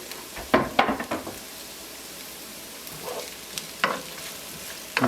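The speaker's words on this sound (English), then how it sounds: "I'm going to stir the apples in with the onions and let it cook for a while." Apples and onions frying in a pan, a soft steady sizzle punctuated by several sharp scrapes and clatters of a utensil stirring, close and without voices.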